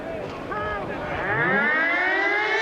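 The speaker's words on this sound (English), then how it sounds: "And there's the full-time siren at Athletic Park." At Athletic Park in Wellington, the full-time siren at a 1990 New Zealand versus Australia rugby league match wails with a rising, sustained tone over distant crowd noise, with a commentator's voice faintly underneath.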